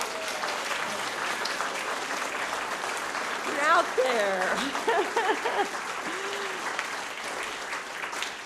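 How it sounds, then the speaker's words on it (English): An audience applauds the helpers of a Sacramento Darwin Day event, steady broadband clapping throughout with a brief swell near the middle while someone talks over it. "just stand up and we're all going to applaud you right now"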